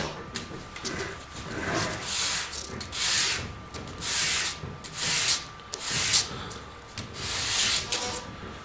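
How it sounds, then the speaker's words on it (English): Sandpaper rubbing back and forth across a knife-cut model airplane part to smooth away ridges, a steady run of close, raspy strokes in repeated bursts. "I'm going to sand this, there's some ridges from my knife on the back side."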